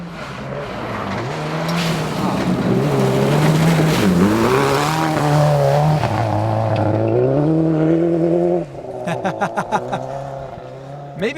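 A rally car roars past on a forest rally stage in the US, its engine note rising and falling through gear changes for several seconds before fading, with a commentator's voice over it.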